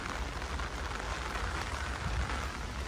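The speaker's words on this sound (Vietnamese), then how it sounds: "Mùa này thì nó mưa suốt, bây giờ là mùa mưa dầm của Hàn Quốc" Heavy monsoon-season rain in Korea falls steadily on surfaces, a dense, even hiss of drops with no pauses and no talking.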